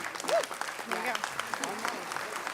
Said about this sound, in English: So just a nice round of applause for her 30 years.